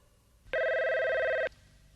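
A single electronic telephone ring, a steady bright tone lasting about a second, clear against a quiet background.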